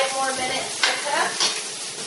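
Sweet potatoes frying in a pan, a soft continuous sizzle with a couple of brief stirring scrapes, close and fairly quiet with no talking.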